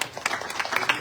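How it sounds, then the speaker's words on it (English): Brief applause from devotees at a Sharad Navaratri night at a Hindu mandir, a short patter of many hands clapping at moderate loudness. "Give him a big round of applause"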